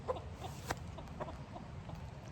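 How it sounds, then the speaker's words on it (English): Several chickens cluck softly and intermittently at a moderate distance over a steady background hiss. "These chickens ain't thinking about going up."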